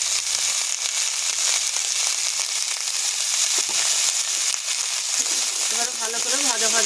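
Cauliflower florets, peas and salt frying in a hot pan give a steady, loud sizzle and crackle throughout, with some stirring scrapes toward the end.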